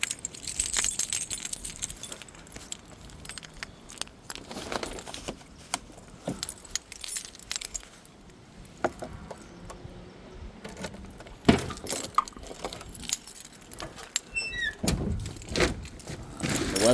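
Car keys jangle and clink in bursts while being hunted for around a Camaro that has sat unused for a couple of years, with irregular rattles, some handling noise and quieter gaps between.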